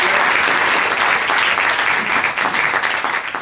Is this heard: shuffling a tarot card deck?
no